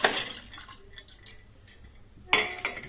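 Washed dal lentils tipped into water in a pressure cooker, a splashy rush at the start and another at the end with quieter trickling between, close up and without talk.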